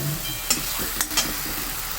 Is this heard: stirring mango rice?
yes